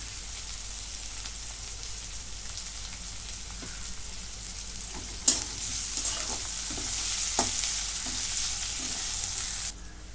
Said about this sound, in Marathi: कांदा चांगला ब्राऊन होईपर्यंत भाजून